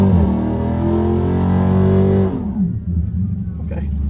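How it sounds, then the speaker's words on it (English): A car engine revs loud and steady to warm up the tires, a sustained droning roar that drops off after about two seconds into a lower rumble, with a voice speaking over it. "Should I warm up the tires? I'll warm up the tires."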